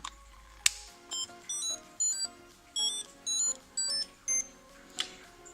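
A Tamagotchi Sanrio Mix toy gives a run of short, high beeps in a steady rhythm, about eight quick chirps close by, with no talking.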